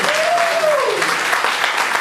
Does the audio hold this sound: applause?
yes